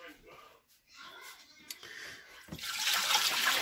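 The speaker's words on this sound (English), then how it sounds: "I'll dump out the bowl of water." Water poured out of a bowl, a splashing gush that swells near the end after quiet household sounds and a voice.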